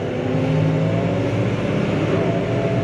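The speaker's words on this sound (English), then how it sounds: "Plenty of go. It's a punchy little engine in this." A New Holland T5 tractor with a 140-horsepower engine revs and pulls away under load while carting big bales, giving a steady, loud, close engine roar with no talk.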